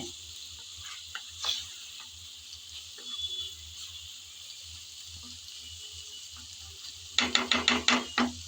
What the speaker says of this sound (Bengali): এভাবে মিশাতে মিশাতে আর একটু ভাজা ভাজা হয়ে আসবে